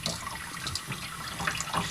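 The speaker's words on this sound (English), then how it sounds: "Just rinsing off the stones, make sure to get off all the grit and stuff" Running tap water rinsing grit off tumbled stones, a steady close splashing hiss with small irregular spatters throughout, no talk.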